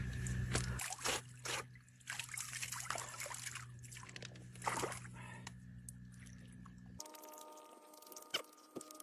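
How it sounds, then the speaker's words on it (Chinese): Water trickles and sloshes as someone washes at a riverside during a wilderness survival stay in a primeval forest; soft, close, uneven splashing with no talk, turning quieter near the end. "这一天累完了，走江边洗一洗。"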